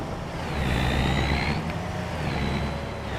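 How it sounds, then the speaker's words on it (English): A truck pulling a trailer in the video game Farming Simulator 25 rumbles steadily with a low engine drone and road noise, faint higher whines rising over the top and no voices. "I like hearing the trailer banging and all that stuff."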